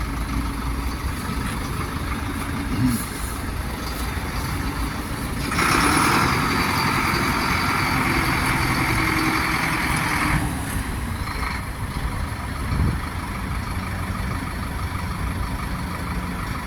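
A Solis 75 turbocharged tractor engine runs steadily while the tractor is loaded for shipment at a tractor yard, a constant drone with a louder surge in the middle and a few faint knocks.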